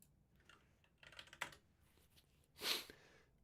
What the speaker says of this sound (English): I can type in the word jQuil.